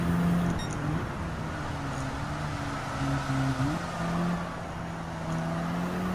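Audi TTS Coupé '14 engine lapping Tsukuba Circuit in Gran Turismo 7, a steady droning hum with pitch that rises and falls through gear shifts, continuous and fairly close throughout.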